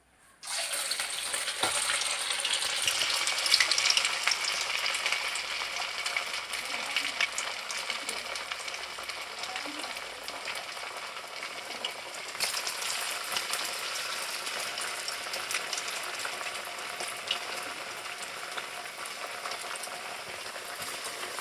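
Onion vada fritters deep-frying in hot oil give a steady, bright sizzle and bubbling hiss that holds evenly throughout, fairly loud and close, with no voices.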